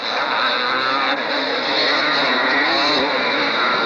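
Motorcycles at a 1985 motocross championship at Pukekohe, New Zealand, roaring steadily with a continuous loud engine drone throughout, several bikes blending together rather than one distinct pass.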